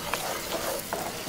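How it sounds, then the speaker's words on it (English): Eggs sizzle and are stirred in a pan on a camp stove at a forest campsite, with soft scraping stirs over a steady close frying hiss. "scrambling eggs here"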